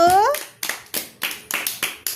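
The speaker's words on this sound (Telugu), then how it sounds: "చప్పట్లు" A short burst of children clapping together, several sharp claps in a quick, slightly uneven rhythm, close and fairly loud, following a brief spoken voice at the start.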